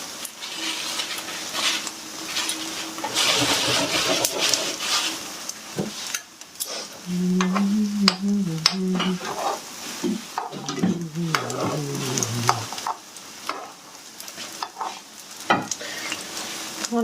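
An herb galette (aghroum lahwal) sizzles steadily in a hot pan, a continuous frying hiss with scattered crackles and a few scraping knocks of a utensil partway through, close and fairly loud throughout.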